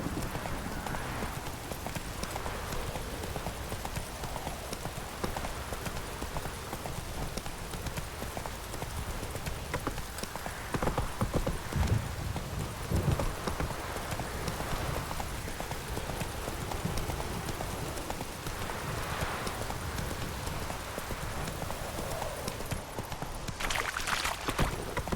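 Hooves of Roach, the horse in The Witcher 3: Wild Hunt, clip-clop at a steady walking rhythm for the whole stretch. The hoofbeats are moderately quiet against a soft outdoor game ambience.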